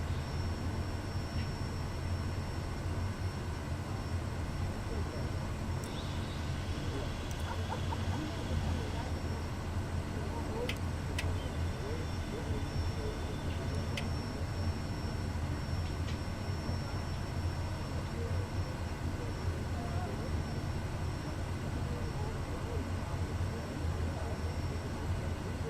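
Kodiak 100 single-engine turboprop taxiing slowly on a runway taxiway in a flight simulator game, a steady low engine drone and broadband whine with faint clicks, constant and unbroken.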